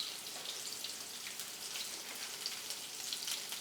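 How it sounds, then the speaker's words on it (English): Onion and tomato paste sautéing in a little hot oil, a quiet, even crackling sizzle heard from nearby with light popping spread through it and no voices. "I take the tomato paste, I just like saute it with the onion"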